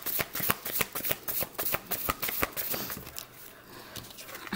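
Tarot cards being shuffled up close: quick, rhythmic bursts of papery riffling and slapping, repeated in a steady pattern with no voices over them.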